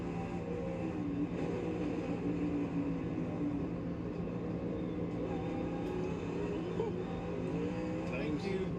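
A NASCAR stock car brakes hard into a corner at COTA, its engine a loud, continuous roar with shifting pitch that stays present and close throughout.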